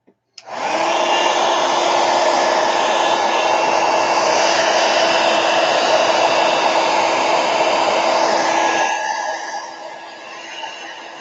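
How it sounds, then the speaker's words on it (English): Heat gun blowing hot air to dry a watercolor painting, a loud steady whirring roar running unbroken for about nine seconds before it cuts off and trails away. "Hopefully this will dry with the heat gun really quickly."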